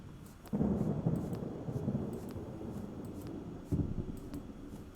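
Thunder rumbles through a storm in The Stillness of the Wind, with two low rolling swells over steady rain-like hiss and faint ticking, fairly loud and unaccompanied by speech.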